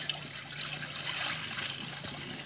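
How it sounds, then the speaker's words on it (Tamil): Water pours steadily into a kadai pan set on a stovetop, a continuous soft trickling splash close by with no talk. "இப்போ வந்து தண்ணி ஊற்றிக்கலாம்."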